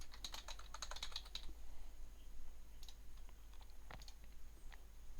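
Computer keyboard typing while filling in the fields of a web form, a quick, light clatter of key presses in a burst near the start, then scattered single taps, close and quiet against a low steady background hum.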